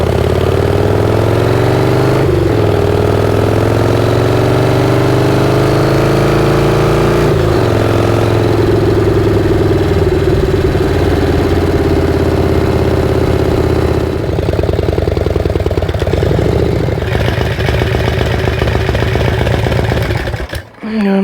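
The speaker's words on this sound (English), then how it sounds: "I'm not gonna let the bike sit there and idle." A motorcycle engine idles steadily and close for about twenty seconds, a continuous low rumble with slight shifts in pitch, cutting off abruptly near the end.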